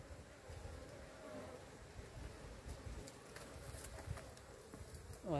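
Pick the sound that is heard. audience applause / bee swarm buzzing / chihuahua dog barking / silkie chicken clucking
bee swarm buzzing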